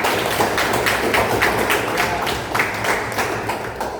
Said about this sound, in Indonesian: Kasih tepuk tangan buat Ridwan